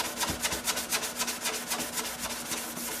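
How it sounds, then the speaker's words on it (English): A guitar body finish of Target EM6000 is pressed against a spinning buffing wheel, giving a steady rhythmic rubbing and whirring with regular pulses, close and moderately loud, with no talk. "all the way through the buffing on the wheels, so that you can see how easily buffing this out"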